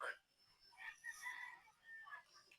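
Faint chickens nearby, a rooster-like crow and scattered clucking rising and falling over a few seconds, heard fairly softly.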